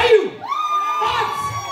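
An audience at a Shravan celebration fashion show cheers loudly, with shrill whoops and high excited shouts rising over a dense crowd roar; no distinct clapping stands out.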